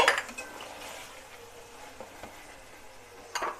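Carrots are tipped into a pot of potatoes and peas, giving a clattering knock at the start and another near the end over a soft, steady cooking sizzle, with no speech.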